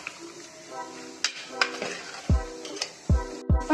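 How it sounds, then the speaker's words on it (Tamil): Yogurt being stirred into chicken kurma in a pan, with repeated spoon scrapes and knocks against the metal over a soft sizzle, the strokes coming in an uneven rhythm. "தயிர் சேர்த்து நல்லா கலக்கிக்கலாம்."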